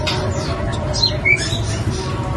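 A Sumenep Madura pentet shrike gives short, bright squawking and whistled calls over a constant low background hum.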